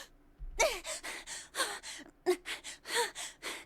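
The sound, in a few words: anime character panting heavily in Zero Escape: 999 video game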